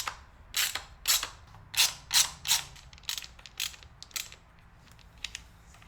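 A ratchet wrench removes the 8mm bolts from the valve cover of a BMW E34 525i M50 engine, giving several close, loud bursts of rapid clicking with short pauses between them and no talk.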